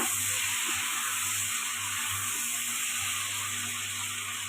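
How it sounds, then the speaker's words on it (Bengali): Eggplant frying in a pan gives a steady, loud hiss and sizzle that runs unbroken throughout, with a faint low hum beneath and no voices. "একটু নেড়ে নিচ্ছি, নেড়ে নিয়ে দিয়ে দেবো বেগুনটা।"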